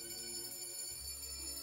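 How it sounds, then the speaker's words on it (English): An alarm ringing in the video game Fable, a steady high bell-like tone that holds unbroken throughout at moderate loudness with no talk over it. "Yeah, yo, there's like an alarm going off."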